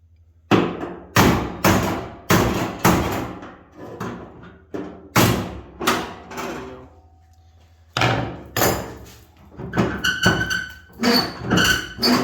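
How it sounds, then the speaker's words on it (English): A hammer pounds on the tailgate of a 1980-86 Ford truck, delivering hard, loud metallic blows close by in uneven groups of four or five with short pauses between them. "Give me a hammer."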